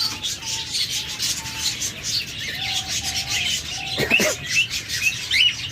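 Caged birds at a bird seller's stall, including diamond doves, budgerigars and lovebirds, chirp in a steady layered chorus of thin tweets and short whistled calls, with a sharper burst of chatter near the end.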